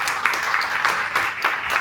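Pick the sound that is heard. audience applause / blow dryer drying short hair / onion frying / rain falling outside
audience applause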